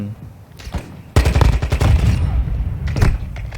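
Heavy gunfire in Call of Duty Warzone 2.0 erupts behind the player, a loud sustained burst of rapid shots with booming impacts after a quieter opening, then another flurry near the end.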